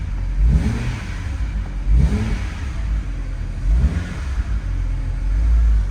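A BMW Alpina B3 S Bi-Turbo parked in a lot is revved three times in quick succession, each throttle blip rising sharply and falling back to a deep, steady idle, close and loud with no talking.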